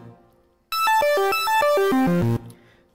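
Super Mario's warp pipe sound effect from the video game, slowed down: a loud synthesized tone sequence of descending stepped pitches in a repeating pattern, ending on the lowest notes and stopping abruptly, with no speech.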